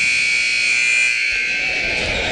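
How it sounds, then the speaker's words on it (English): A basketball game buzzer sounds in a high school gym, a loud, steady electronic tone holding for the whole couple of seconds with faint crowd noise beneath and no speech. "Just before the buzzer."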